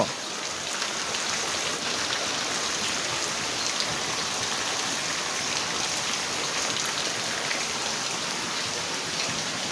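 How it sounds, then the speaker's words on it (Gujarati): Heavy monsoon rain pours down steadily on a farm, a dense, loud, unbroken hiss of drops hitting surfaces with no pauses and no talking. "પછી વધી ગયો વરસાદ. હારા મારો આવે છે અત્યારે"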